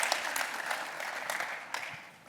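Conference audience at INBOUND23 breaks into a brief, moderate round of clapping that fades toward the end, heard alone without speech.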